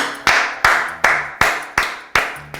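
Six loud, close single claps from one person, evenly spaced about a third of a second apart, cheering on children doing gymnastics at home.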